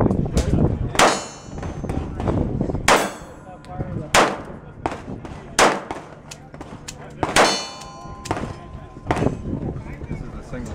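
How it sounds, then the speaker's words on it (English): Sharp, loud gunshots from a Chiappa Model 27 pistol at a SHOT Show range, roughly eight reports at irregular intervals with metallic clangs and ringing between them, alongside nearby chatter. "shooting the Model 27 from Chiappa."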